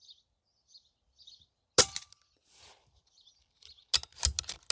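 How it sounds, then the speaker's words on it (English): An Umarex Notos air rifle fitted with a moderator fires sharp, short cracks, one alone and then a loud snap followed by a clattering burst, against a quiet outdoor background with faint bird chirps. "I have the decibel meter set at max setting, so it'll pick up the max setting for these 3 shots."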